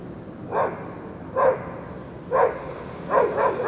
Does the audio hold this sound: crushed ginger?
no